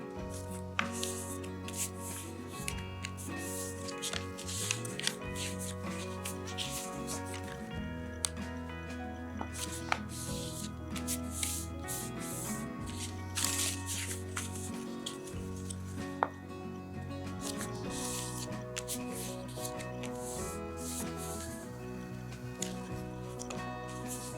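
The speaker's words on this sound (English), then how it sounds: "It's getting a little harder now to make these creases nice and tight because you've got several layers of paper in there" Layered paper is folded and pressed into tight creases while making a gift box, with continuous close rubbing, crinkling and scraping strokes and occasional sharp crackles, heard over steady background music.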